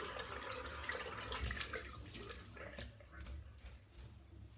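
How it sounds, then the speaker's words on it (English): Hot tap water runs during a head-shave rinse, a quiet, steady splashing flow that thins out and turns to sparse drips toward the end. "So just give it a quick rinse under the hot water."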